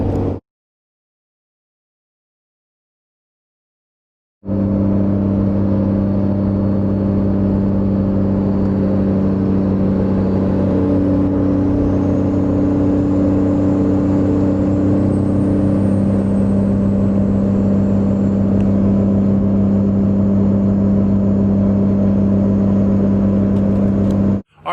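After about four seconds of silence, a car engine hums steadily while driving in a high gear to warm up the transmission fluid, a loud, even drone with a faint rising whine midway and no speech.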